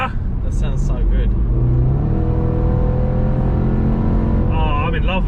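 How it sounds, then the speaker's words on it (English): A Range Rover SVR accelerates hard uphill with its exhaust valves open, giving a loud, continuous, rising engine roar heard from inside the car, with brief voices at the start and end. "You can hit like the valves presumably open because we're in normal mode, and it just goes ah."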